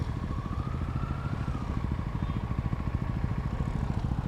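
A motorbike engine runs steadily and close on a Kerala beach, its even mid-pitched throb holding throughout with a slight rise in tone early on, no voices over it.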